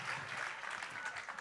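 Brief burst of applause from a comedy-show audience in France, a dense wash of clapping held steady at moderate loudness throughout.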